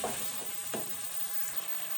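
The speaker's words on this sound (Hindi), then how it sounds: "टमाटर और दही ऐड कर दिए हैं। अच्छी तरह से मिक्स कर लेंगे।" Tomatoes and whisked yogurt masala sizzle and fry in a pan, a steady close hiss with a couple of brief stirring scrapes, no voices.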